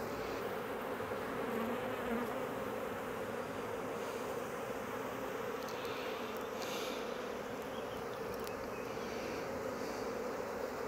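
Honeybees in an opened hive crowded with drones make a dense, continuous buzz that stays even and close throughout, with no voices over it.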